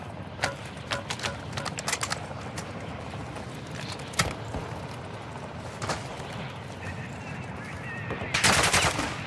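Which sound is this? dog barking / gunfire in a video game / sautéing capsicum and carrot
gunfire in a video game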